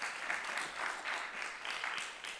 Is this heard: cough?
no